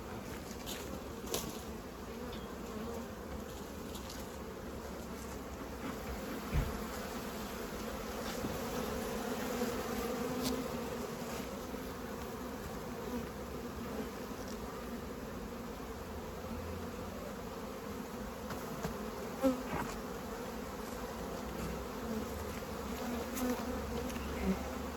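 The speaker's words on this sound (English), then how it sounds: "So we've got bees now all in the air because bees are coming back." Honeybees fly around hives in a botanical garden, a continuous soft buzzing swarm with individual bees passing near now and then, steady and fairly quiet throughout.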